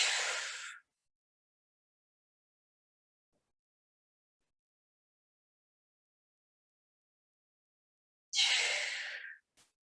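Two slow, audible breaths taken while holding a fitness stretch, an exhale at the start and another after a long silence, close and soft.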